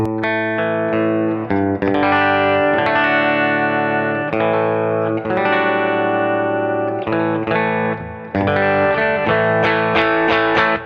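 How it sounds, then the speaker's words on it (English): An electric guitar plays clean, ringing chords and single notes through a Benson Preamp pedal with a steady, full tone that sustains between strums. "The Benson Preamp. Here's here's your clean tone, by the way."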